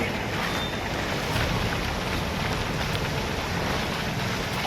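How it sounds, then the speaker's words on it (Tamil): Heavy rain falls steadily during a thunderstorm in the Vadakarai area of Tamil Nadu, a dense, constant hiss that fills the whole stretch without a break. "இடி மின்னலுடன் கனமழை பெய்தது."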